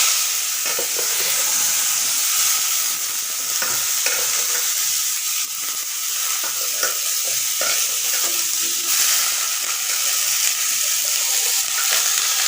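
Finely chopped radish with black cumin seeds sizzles steadily in a hot pan for a Bengali radish stir-fry, a continuous crackling hiss broken by soft scraping stirs.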